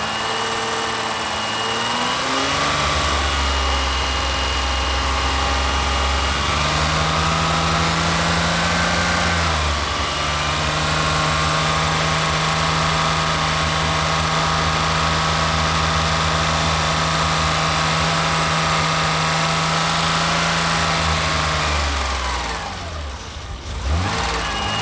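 Running BMW engine held at raised revs for a long steady stretch while water is poured into the intake, a loud continuous drone with a few pitch shifts, dropping away near the end.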